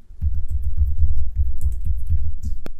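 Fingers tap out a password on a computer keyboard while logging in as administrator on a Windows Server 2019 machine: a quick, steady run of soft, close keystrokes with one sharper key press near the end, and no talk.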